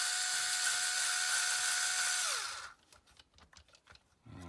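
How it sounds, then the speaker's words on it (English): A small power driver whines as it drives screws into a shock tower on a TRX4 RC truck, the pitch dropping as it stops, followed by faint clicks and handling noises. "I want to make sure I get all the screws in first before we snug them down."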